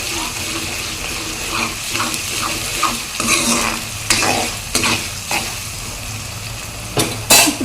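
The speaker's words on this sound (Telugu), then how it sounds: "పచ్చివాసన పోయేంత వరకు వేయించుకుందాం" Chicken curry masala fries in a pan, a steady close sizzle with intermittent scraping stirs and a few sharp utensil clinks against the pot.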